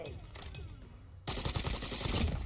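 Rapid gunfire bursts out partway through in Call of Duty Mobile, a dense, loud rattle of shots following a quieter stretch of faint game sounds.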